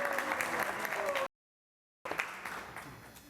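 Audience applause at a gathering in Vrindavan: a dense, steady wash of clapping that cuts out into brief silence, then resumes just as strong.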